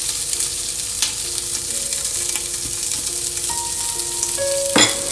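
Chopped onions fry in rendered bacon fat for a corn chowder, a steady close hiss with occasional light stirring clicks and a brief louder clatter near the end.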